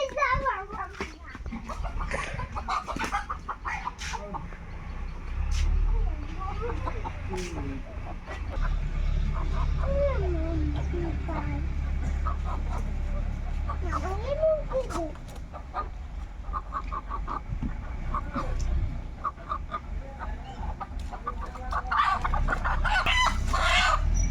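Desi chickens on a small farm cluck repeatedly, and a rooster crows several times at close range, while children and adults talk and play throughout.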